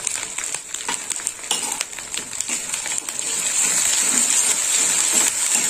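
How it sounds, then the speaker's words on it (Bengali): Green chilli paste stirs and fries in a hot pan for a katla fish head dish: a steady bright sizzle with repeated scraping and clinking strokes, growing louder and denser toward the end, no talking. "এইভাবে মশলাটা বারে বারে নেড়ে চেড়ে নিতে হবে।"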